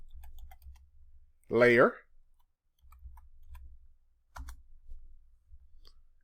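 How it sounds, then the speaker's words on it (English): A computer keyboard is tapped at a desk: a few soft, sparse clicks, with a brief spoken word partway through. "I'm just going to type in center"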